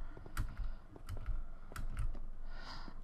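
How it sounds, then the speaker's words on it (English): A loud computer keyboard clacks in several quick bursts of key presses, close and fairly faint overall, during a Minecraft gaming session, with no talking. "My keyboard's really loud."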